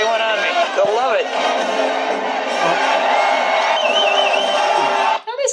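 A big outdoor crowd in a Spider-Man 3 scene cheers, whoops and shouts in a loud continuous roar, with voices rising above the din before it cuts off near the end.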